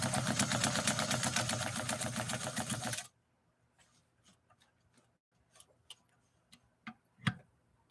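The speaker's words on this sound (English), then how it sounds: "We're going to lay down another stitch line." Rare vintage New Home Model 444 sewing machine stitching a top stitch line in cotton, a fast loud rhythmic mechanical clatter for about three seconds, then stopping, followed by scattered faint clicks and taps.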